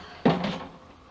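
A LEM food dehydrator door is opened or shut once, a single close, short knock that fades quickly in a quiet room.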